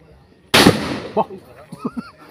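A single sharp gunshot at marksmanship shooting practice, a loud close blast with a quick decaying tail, followed by brief talk from people nearby.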